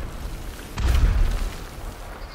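A single deep, booming explosion from enemy fire in the video game Ghost of Tsushima, a sharp impact followed by a short rumbling tail over background noise.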